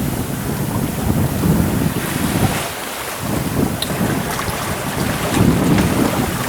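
Steady wind gusts over a sailboat on choppy water off Santa Cruz Island, California, with a constant rushing roar, some microphone buffeting and splashing waves, swelling in strength near the end.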